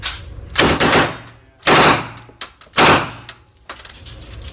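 A WWII Thompson submachine gun fires three short, loud bursts outdoors, each a quick cluster of rounds with pauses in between.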